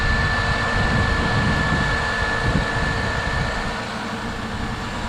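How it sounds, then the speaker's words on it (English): A 2003 Toyota Highlander engine runs after an alternator replacement, a steady loud broadband drone with a faint high whine, easing off slightly toward the end; no talking. "so I'm going to start up the vehicle"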